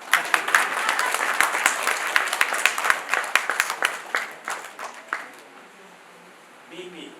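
A seminar audience claps steadily for several seconds, the applause thinning out and fading near the end.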